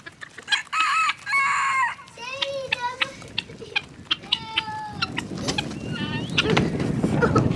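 Backyard chickens cluck and a rooster crows in short repeated calls close by, with a cat meowing among the birds and a steady outdoor background.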